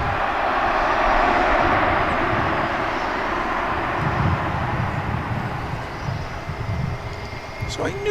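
An airliner lands at DFW International Airport, its engines a loud, broad roar that slowly fades and eases, with people talking underneath.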